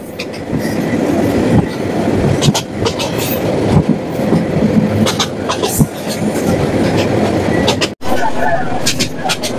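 A passenger train bound for Chandpur in Bangladesh rumbles steadily along the rails, with continuous clattering wheel noise, faint squeals and a brief dropout near the end, while voices murmur faintly inside the carriage.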